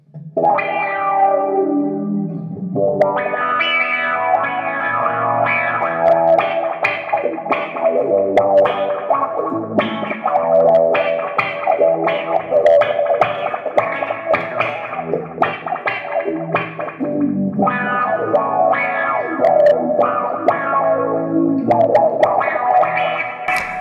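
An electric guitar plays through an envelope filter with only the wet signal, its notes swelling and wobbling with a wet, washy tone, continuous and fairly loud with no talking.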